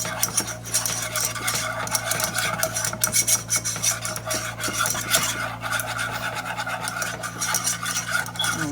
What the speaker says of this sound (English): I'm gonna whisk this into that oil I got in here